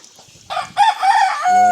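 A chicken being bathed, its feathers soaked and squeezed out by hand, gives a short, loud, close squawking call that rises and holds in a drawn-out cry.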